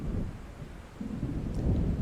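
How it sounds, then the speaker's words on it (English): Low thunder from a storm approaching in the Alan Wake video game rumbles continuously, a deep, moderately loud roll that builds slightly toward the end without any speech. "It seems there's a storm coming."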